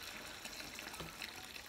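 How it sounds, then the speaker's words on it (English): Tap water gushes steadily into a brewing fermenter for a Mangrove Jack's Juicy Session IPA beer kit, a continuous close splashing pour with no break. "I've poured that water in quite vigorously"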